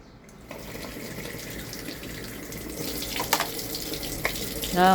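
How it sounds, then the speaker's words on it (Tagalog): Tap water runs steadily into a sink while bottles are rinsed, a continuous close splashing rush that swells louder toward the end, with faint voices in the background. "Hugasan mo doon sa tubig."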